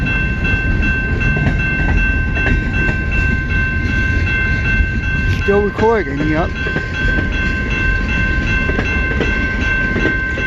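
A CN M482 northbound freight train rolls past near South Rockwood, a steady loud rumble and clatter of cars with a short horn blast midway and a squealing, whining tone above it; someone speaks briefly.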